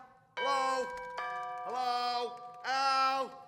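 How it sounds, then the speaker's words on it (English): A two-tone ding-dong chime rings out twice, clear and close, with the bright tones lingering after each strike. "That's the doorbell, dear,"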